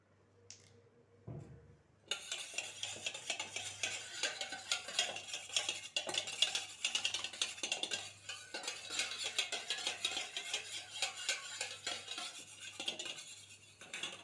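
A spoon steadily stirring vanilla essence into cupcake batter in a bowl, close and fairly quiet, with a repetitive scraping and clinking rhythm that runs continuously after a brief pause at the start.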